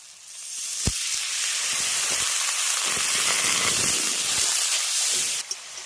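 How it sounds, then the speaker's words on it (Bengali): Masala for egg tadka sautés in a pan with a little salt and water, a loud continuous hiss and sizzle broken by a few sharp pops and stirring clicks, without any voices. "এবার সামান্য লবণ দিয়ে মশলাটাকে কষিয়ে নেব"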